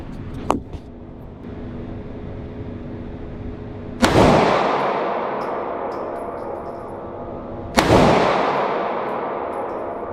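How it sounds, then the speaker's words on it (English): A Canik Mete MC 9 Prime pistol fires two sharp, loud shots about four seconds apart on a range, each shot ringing out with a long decaying echo. A fainter click comes earlier. "We're gonna put in the 16-round mag and fire off 2 shots to see how close we can get to center mass here"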